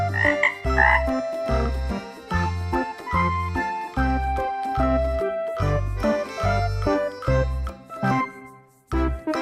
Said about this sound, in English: bullfrog